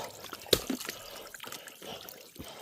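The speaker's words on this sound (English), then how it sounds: "Streams hitting this ladder." Stream water splashes and trickles steadily onto a metal ladder over slippery rocks on a Vermont mountain hike, with one sharp metallic tap standing out early on.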